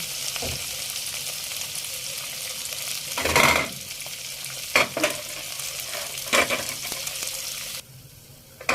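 Winter melon (kondol) pieces sizzle and get stirred in a pan of frying pork belly, a steady close hiss with a few sharp scraping stirs and clacks, no talking.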